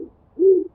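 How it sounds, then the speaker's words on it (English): A cartoon pigeon gives a soft, low coo, one smooth sustained note preceded by a faint murmur, close and quiet. "Pigeon."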